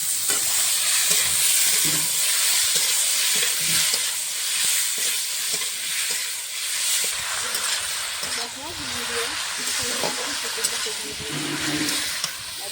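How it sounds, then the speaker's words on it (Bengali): Squeezed ash gourd dropped into hot oil with tempering spices, frying with a strong sizzle and hiss, stirred now and then, while a person talks over the cooking. "চাল কুমড়োটা চিপে চিপে এরকম করে চিপে দিয়ে দেবো ফোড়নের মধ্যে।"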